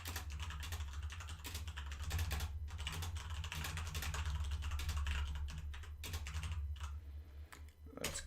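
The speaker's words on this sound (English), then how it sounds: "Enjoy the clicky clicky clacky clacky of my lovely mechanical keyboard." Rapid, irregular clicking and clacking of keys on a mechanical keyboard, heard close and alone, with brief pauses between bursts of typing.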